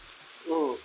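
Black pepper steak stir fry warms on a Blackstone griddle, giving a short, close burst of sizzling after a quiet moment, with no talking.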